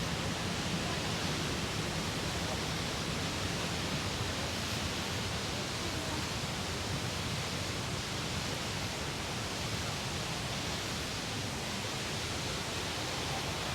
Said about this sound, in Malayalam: ഇതാ ഇവിടെ ഒരു വാട്ടർഫാൾ ഉണ്ട്.